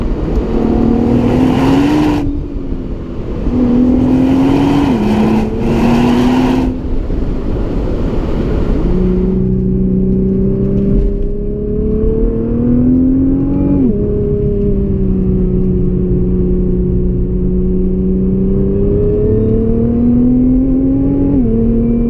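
A 2017 Nissan GT-R engine revs hard through several rising gear pulls, each climb cut by a quick shift, loud and close.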